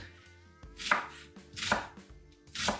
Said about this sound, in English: now we start cut the onion and the carrot. Okay? Onion by knife